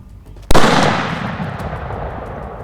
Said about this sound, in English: Now we get to the joy of shooting the 416.